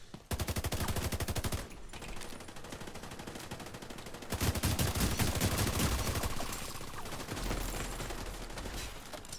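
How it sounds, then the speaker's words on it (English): Turret gunfire in The Division 2 during a PvP match, as rapid, continuous automatic bursts that rattle loudly and fill the scene almost without pause, with a brief lull before heavier firing resumes. "I heard a turret."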